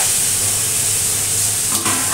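Ginger and green chillies frying in a hot pan give a steady, loud broadband sizzle with hissing steam throughout, no voices over it.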